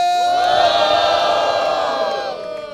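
A large crowd at a rap battle cheers and shouts loudly and continuously, with high whoops rising over the roar before it begins to fade.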